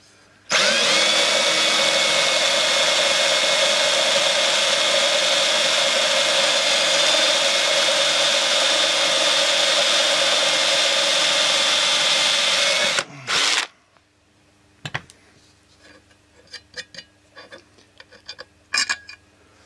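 A loud, steady power drill whine drilling a 4mm hole in an aircraft undercarriage runs continuously for about twelve seconds, then stops abruptly, followed by faint clicks and handling noises.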